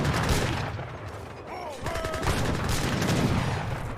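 Rapid bursts of gunfire from units sniping in an Age of Empires III match, crackling volleys layered over busy battle noise and game effects.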